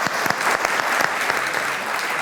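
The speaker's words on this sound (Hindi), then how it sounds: "तालियां, जबरदस्त" Dense studio audience applause during a Pakistani comedy talk show, a steady wash of many hands clapping at close range with no speech over it.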